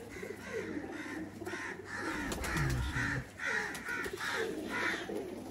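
Golden Kamagar pigeons calling in a loft, a series of soft repeated coos and throaty calls spaced at a steady pace, moderately close, with no talking.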